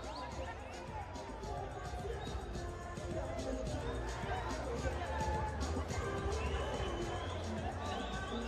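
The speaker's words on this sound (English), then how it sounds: "we've got a noisy and vocal crowd" A loud, vocal crowd at a WBF African title boxing bout keeps up a dense, continuous roar of chatter and shouting, with occasional calls rising above the babble.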